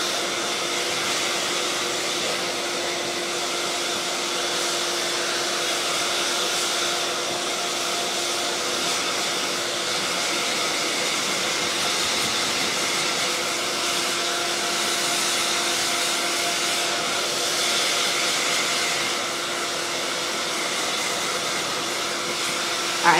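A hair dryer blows steadily to heat-set and dry a drag king wig, a loud close whooshing drone that holds unbroken for the whole stretch.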